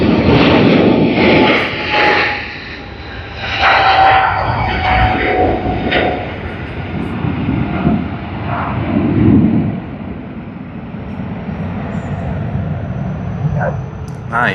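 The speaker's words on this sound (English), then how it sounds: "Here you go, the mighty Boeing 777-300 SQ212 to Singapore" Singapore Airlines Boeing 777-300 jet airliner, flight SQ212, at Sydney Airport, a loud close jet engine roar that surges and eases in waves, with a voice speaking over it.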